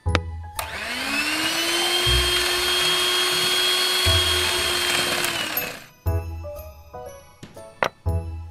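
A small electric grinder whirs steadily for about five seconds as KitKat chocolate is ground, then stops, followed by a few light clinks and taps.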